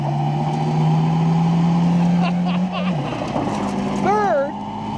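A Toyota Hilux mini truck engine drones at a steady pitch, dips as it shifts into second gear, then pulls again while a voice speaks over the loud, close motor noise.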